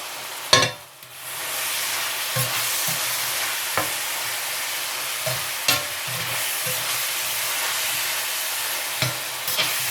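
Meat frying with onions, paprika and other spices in a pan for homemade pizza topping: a steady close sizzle broken by several sharp knocks and scraping stirs of the utensil.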